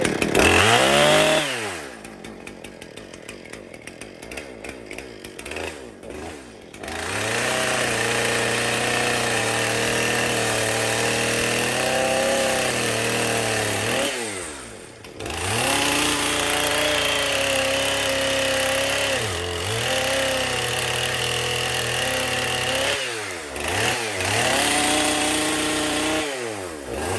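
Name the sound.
chainsaw cutting spruce trees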